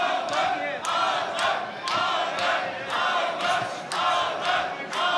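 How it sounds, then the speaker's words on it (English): A boxing crowd in Istanbul chants in loud rhythmic bursts for Batyrgaziev during a pro bout, regular waves of massed voices repeating roughly every half second to second. "The crowd trying to get behind him as well."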